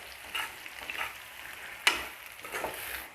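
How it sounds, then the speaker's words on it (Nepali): Chicken feet fry with spices in a pan, a moderate, steady crackling sizzle with a few sharper pops and a stirring scrape, close-up and without talk. "हेर्नु त यो कस्तो मजाले खरिँदै पाकिरहेको छ"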